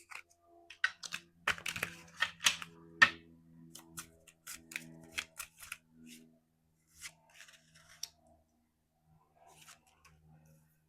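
A deck of chakra wisdom cards is shuffled close up, giving a crisp run of flicking, riffling card snaps that comes in bursts and then thins out into scattered soft taps, with no talking.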